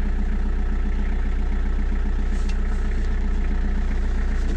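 A car engine idles with a steady low drone and a thin, continuous squeal from a worn accessory belt riding on top, with a couple of brief sharper chirps partway through.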